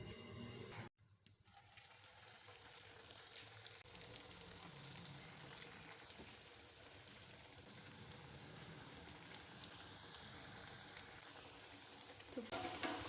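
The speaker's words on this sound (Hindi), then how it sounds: "अब हम इनको फ्राई करते हैं।" Crisp vegetable snacks bubble and sizzle in hot oil, a steady close crackling hiss that runs almost throughout after a short silent break near the start.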